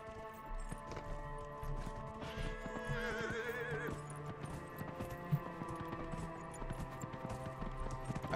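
A horse in the video game Dragon Age: Inquisition whinnies loudly near the middle, with steady clip-clopping hooves running throughout over a soft music bed.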